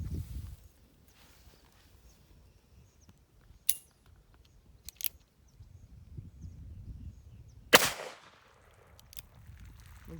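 A Remington Uberti 1875 Outlaw revolver in .45 Long Colt fires two loud, sharp shots several seconds apart outdoors, with a fainter crack between them and quiet rustling in the pauses.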